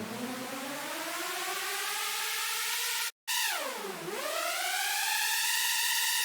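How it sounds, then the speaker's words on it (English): A Super Saw Uplifter riser preset from Bass Forge: a bright, dense detuned saw stack that climbs in pitch, cuts out for an instant, dips to a low swoop, then rises again, loud and sustained with no voices. "is the Super Saw Uplifter"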